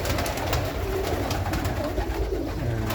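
Domestic pigeons cooing steadily in a loft holding a large flock, a dense low murmur of overlapping coos close by with no talk.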